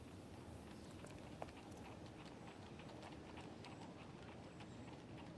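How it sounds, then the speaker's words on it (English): Horse-drawn carriage in Sherlock Holmes: The Awakened (2006), hooves clip-clopping in a steady patter beneath a dense, noisy ambient bed, with one brief sharper click partway through. "It was probably just a horse with a carriage."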